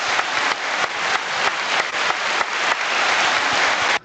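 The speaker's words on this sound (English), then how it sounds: "Golf clap." A small group's polite golf clap: distinct, rhythmic hand claps repeating steadily for about four seconds, close and fairly loud, then stopping abruptly.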